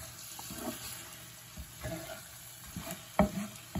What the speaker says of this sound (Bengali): আমি এখন একটু নাড়াচাড়া করব।